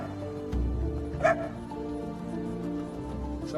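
Dog barks and yips in a film scene, a close bark at the start with a brief sharper yelp, over a steady low background hum and no talk.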